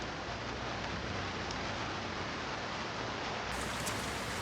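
Steady rain falls throughout as a dense, even hiss of drops on surfaces, continuous and fairly close, with no voices over it.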